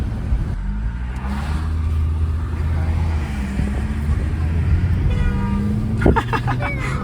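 A VW Passat engine drones steadily and builds under acceleration from inside the car, with a few brief tonal blips near the end.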